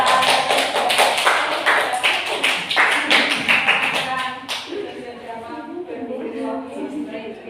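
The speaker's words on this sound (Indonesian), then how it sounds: "beri tepuk tangan" A group in a counseling practice session applauds with brisk, steady clapping for about four seconds before it cuts off, followed by talking.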